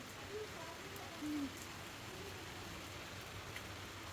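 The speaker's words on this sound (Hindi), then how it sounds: "और ये बारिश" Steady rain of heavy, fat drops patters and hisses evenly throughout, a continuous wash of falling drops with no other distinct sounds.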